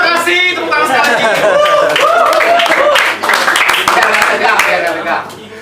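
An audience claps at a Banjarmasin YouTubers' meetup while a host speaks over the applause, which stays steady and loud and then tapers off at the end.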